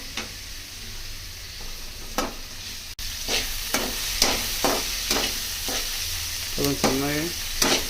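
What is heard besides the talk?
onions frying in a pan after garlic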